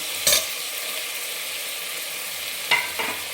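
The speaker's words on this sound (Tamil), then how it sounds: "தக்காளி போட்டு நல்லா வதக்கிக்கோங்க. தக்காளி வதங்கட்டும்." Tomatoes sauté in a pan for chicken banana leaf biryani, giving a steady hissing sizzle with two sharp stirring scrapes near the start and end.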